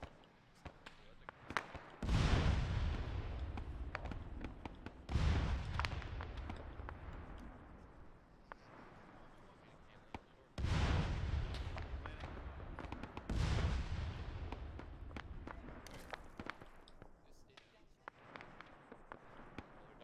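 Gunfire and explosions in a Korean War video game set at the Pusan Perimeter: several heavy booming blasts spaced a few seconds apart, each with a long rumbling decay, amid scattered sharper cracks, with people talking in between.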